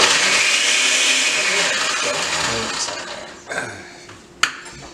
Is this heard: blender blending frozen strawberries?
yes